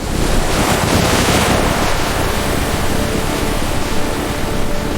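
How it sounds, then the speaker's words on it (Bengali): Strong gusting wind and heavy waves beating against a boat on a river at night during a storm, a loud dense continuous roar of wind and splashing water with no speech. "এই বাতাস হঠাৎ কেন এত জোরে বইছে? নৌকার গায়ে বড় বড় ঢেউ আঘাত করতে লাগলো।"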